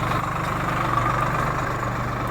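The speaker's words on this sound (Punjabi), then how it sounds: "855 ਦੇ ਚੱਕਰ ਵੱਧ ਮਿੱਤਰੋ ਪਿੱਛੇ ਹੋ ਗਿਆ ਟਰੈਕਟਰ 855 ਅੱਗੇ ਲੰਘ ਗਿਆ" A Swaraj 855 tractor engine runs in high gear during a speed test against a Novo 755, giving a steady, loud, low-pitched diesel drone with no voices.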